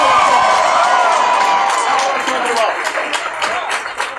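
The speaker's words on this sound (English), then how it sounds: "Give yourself a round of applause" A large crowd in an Austin office applauds and cheers loudly, the roar of voices strong at first, then giving way to more distinct scattered clapping as it tapers.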